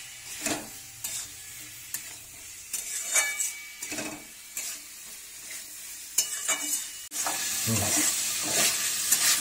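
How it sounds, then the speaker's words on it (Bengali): Garlic and flat beans with Kashmiri chilli powder and sugar are stirred and fried in a pan, a steady hissing sizzle broken by repeated scraping strokes of a spatula, growing louder and more continuous toward the end. "এবার ভালো করে এটাকে কষতে হবে"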